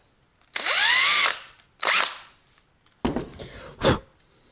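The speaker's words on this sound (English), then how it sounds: "I drilled out this hole deep enough and wide enough so that these machine's bolts can fit in unobstructed." Short bursts of a power drill boring a hole into a plastic smart battery case, three or four whining spin-ups with rising and falling pitch, close and clear with no talking.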